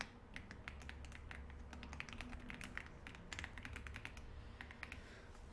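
Keystrokes on a computer keyboard pressing the Alt, Shift and Enter combination: a steady run of light, crisp clicks and taps at close range, fairly quiet, with no talking.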